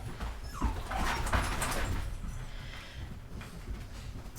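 Several dogs whimper and yip excitedly at close range, high whines and short squeaks layered over rustling household noise.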